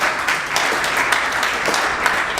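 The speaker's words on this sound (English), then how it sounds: "Let's give Ron Paul a round of applause" Audience applause for Ron Paul fills a conference hall, a steady wash of many hands clapping at moderate volume with no voices over it.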